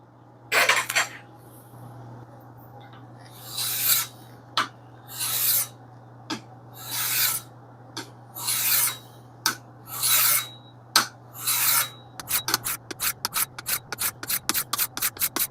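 A small hewing axe is worked across sharpening stones in slow, evenly spaced rasping strokes that turn into a quick run of short, scratchy passes at the end, close and clear against a faint steady hum.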